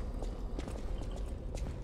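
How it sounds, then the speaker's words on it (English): Heavy stomping footsteps in the dark action game Lies of P, a rapid run of dull thuds rising from somewhere below, faint and muffled under a low ambient rumble. "Hear some stomping down there."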